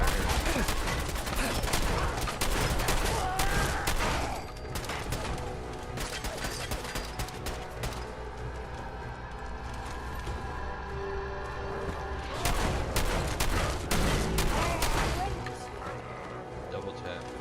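Automatic gunfire in Fallout 4, loud rapid bursts of shots separated by brief pauses, with someone speaking between them.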